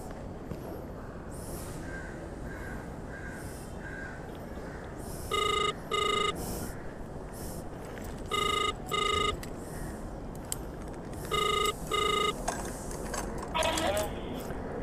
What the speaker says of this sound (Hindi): पहले ऋतिक को फ़ोन कर लेता हूँ।